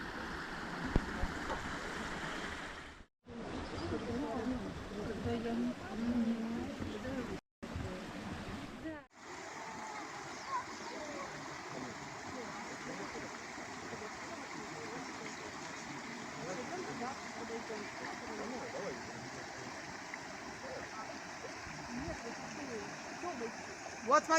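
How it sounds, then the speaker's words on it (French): Thermal spring water flows in the mountains of the Russian Altai, a steady broadband rush running nearly without a break, interrupted only by a few brief cuts early on. "De l'eau thermale."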